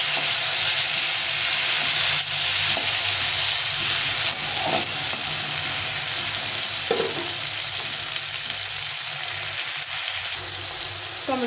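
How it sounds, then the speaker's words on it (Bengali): Chopped tomato fries with a bay leaf in a hot pan, giving a steady, dense sizzle that runs continuously, with a few faint clinks of stirring. "একটু ভেজে নেবো টমেটোটাকে"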